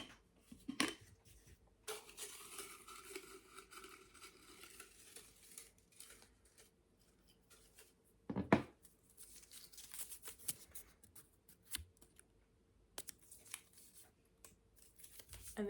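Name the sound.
shuffling paper slips before drawing one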